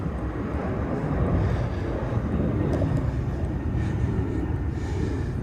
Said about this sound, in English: and you can hear the planes.